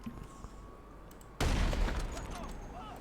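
A weapon fires in the video game GTA V, a dense burst of gunfire that starts suddenly partway through and carries on loudly to the end after a quieter opening.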